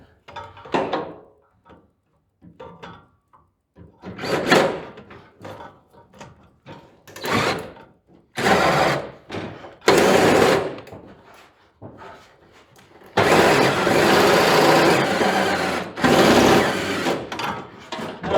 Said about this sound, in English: Drill bit slipping.